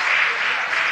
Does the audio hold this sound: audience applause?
yes